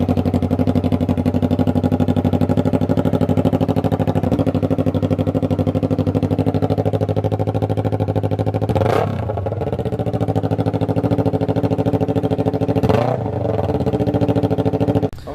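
A Yamaha R3 motorcycle with a straight pipe exhaust runs loud and close, holding a steady rumbling idle with two sharp throttle blips and a brief dip near the end.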